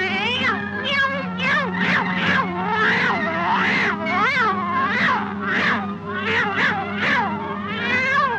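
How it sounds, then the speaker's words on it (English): A cat in the video game Epic Mickey's Steamboat Willie level yowls and meows over and over in rapid, drawn-out cries, loud and close, sounding almost musical with a low drone underneath. "look at this poor cat. He wasn't even in sync with the music."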